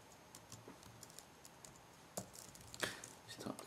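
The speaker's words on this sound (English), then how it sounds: "Type that in there, click on login." Quiet, sparse keystrokes on a computer keyboard as login details are typed into a WordPress admin page, with a slightly firmer burst of clicks near the end.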